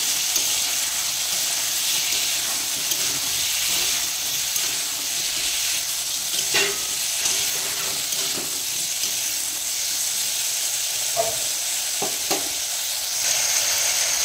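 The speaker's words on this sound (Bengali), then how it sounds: "এবার আলুটাকে সুন্দর করে ভেজে নেব।" Potatoes seasoned with salt and turmeric fry in hot oil for aloo posto, a steady close sizzle and hiss running throughout with a few stirring scrapes and knocks.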